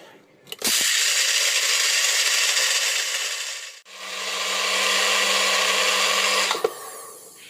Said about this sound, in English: Alright, I'm going to grind up these beans.